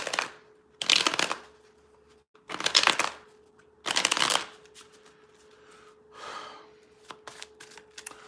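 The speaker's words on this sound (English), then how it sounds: "I'm going to do one more shuffle." Playing cards are shuffled in four quick riffling bursts with short pauses between, close and crisp, followed by a softer fifth shuffle.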